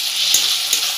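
Spices with turmeric and Kashmiri chilli frying in hot oil for tadka dal, a loud, close, continuous sizzle with two quick stirring scrapes.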